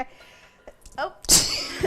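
A single sharp sneeze bursts out in a home kitchen near the end, loud and close, after a short exclamation and some quiet shuffling.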